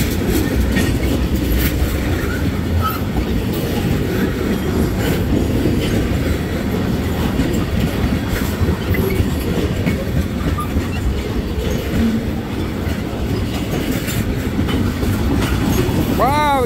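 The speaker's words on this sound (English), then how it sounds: "that train's longer than I thought" A long freight train on the Wheeling & Lake Erie line rolls past close by near Collins, Ohio, a steady heavy rumble with rhythmic wheel clatter, ending in a high metallic wheel squeal.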